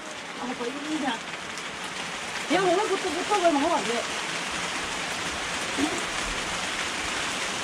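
Steady rain falls around a Thai household, a constant close wash of patter with people talking over it.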